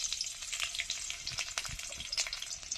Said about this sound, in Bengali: কড়াইতে দিয়ে দিলাম অল্প করে একটু সর্ষের তেল কাঁচা লঙ্কা